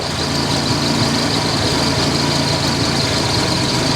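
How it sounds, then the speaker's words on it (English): A 1987 Buick Grand National engine idles loud and close, a continuous steady rumble with no talking over it. "It has never started and idled like this before, not ever."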